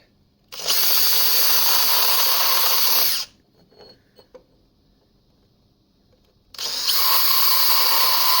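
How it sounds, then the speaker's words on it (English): A die grinder bites into a part on a 1997 Jeep Wrangler TJ, two loud, steady high-pitched whining runs close by, separated by a few seconds of quiet with light handling clicks. "I think I'm going to use a die grinder and see what I can do."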